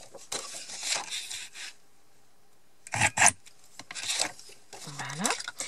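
A craft piercing tool pokes through a paper card laid on a hard surface, giving short scratchy rasping bursts separated by pauses, close and fairly quiet.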